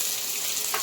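Vegetables for khichdi sizzle and crackle in hot oil as they are stirred, a short, bright continuous hiss with no talk.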